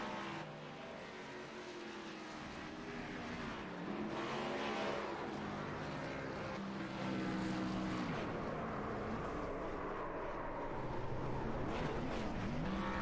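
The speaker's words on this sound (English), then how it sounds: "Celebratory donuts, victory burnout." A race car spins celebratory donuts and a victory burnout on an oval front stretch, a sustained rasping engine roar with wavering revs and tire noise that swells and ebbs over about thirteen seconds.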